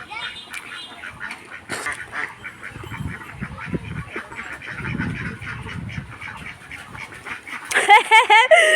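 Ducks quacking and honking in a busy cluster, with people talking and calling over them; the quacks grow louder and more excited near the end.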